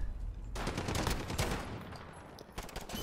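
Dragunov sniper rifle in the Modern Warfare video game firing rapidly, a loud dense stretch of sharp close gunshots beginning after a brief quiet moment and pounding on with little gap between blasts.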